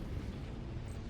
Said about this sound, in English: That's the last salvo of LRMs that I'm going to use here.